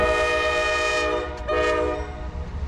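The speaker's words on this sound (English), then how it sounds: "trains kept blasting their horns on a nearby track all night" A train horn blasts from a nearby track, a loud sustained multi-tone blare that briefly dips and resumes, with rumbling rail noise underneath and no voices.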